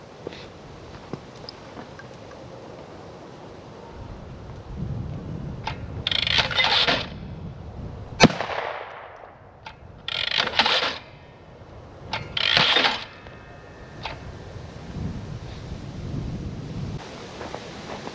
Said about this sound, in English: Every time I hit that pedal, it's just gonna fire a clay.